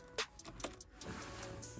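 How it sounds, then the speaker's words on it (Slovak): Car keys jangle and click as one is turned in the ignition of an Opel Vivaro camper van, a few quiet metallic rattles followed by a low steady hum once power comes on. "Zapnem kľúčik."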